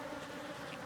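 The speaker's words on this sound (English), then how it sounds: "there's just a little bit of bees holding on" Honey bees clinging to a hive frame give a faint, steady close buzzing drone that stays even for about a second.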